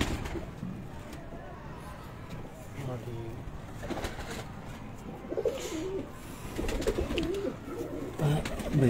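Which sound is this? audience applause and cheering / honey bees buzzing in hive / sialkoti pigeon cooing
sialkoti pigeon cooing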